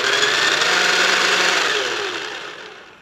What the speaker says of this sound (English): Let's move on over to the food processor. And you're going to pulse until they are finely chopped here.